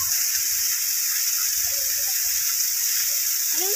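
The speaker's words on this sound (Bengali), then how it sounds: "জলটা কোথা থেকে পড়ছে দেখো।" A roadside waterfall tumbles down the hills of Arunachal Pradesh in July, a steady, dense rushing hiss of falling water that continues unbroken throughout.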